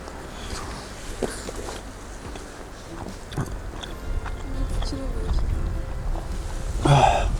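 Crunchy bites and chewing of a dry Russian army field ration, close to the mouth, with irregular crackles and soft rustling. A brief vocal sound comes near the end.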